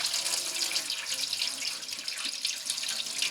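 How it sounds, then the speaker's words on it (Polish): Cold water runs steadily from a tap over cheese curds being cooled, a continuous close splashing hiss with no voices. "teraz odkręca zimną wodę i schładza cały ten nasz ser zimną wodą"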